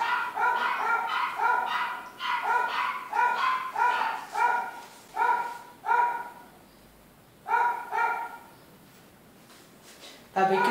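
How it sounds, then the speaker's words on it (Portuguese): A dog barks repeatedly in rhythmic clusters, moderately close, with brief pauses between bouts and a final sharp bark. "Cachorro da vizinha. Cala a boca!"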